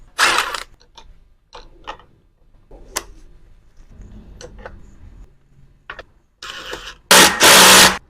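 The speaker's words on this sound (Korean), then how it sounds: "이제 반대편 크랭크 장착할게요" Fitting the second crank arm onto an electric fat-tire bicycle with a 52T crankset: scattered close metallic clicks, ratchet ticks and taps, ending in louder bursts of clattering tool noise.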